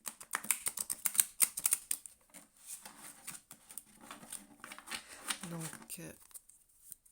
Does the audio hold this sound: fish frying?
no